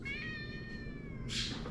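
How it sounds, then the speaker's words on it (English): Cat meowing in a home kitchen, a single drawn-out meow with a sharp short hiss-like burst at the end, faint against a steady low background hum. "I don't know if you can hear in the background, Theo and Ollie, the cats"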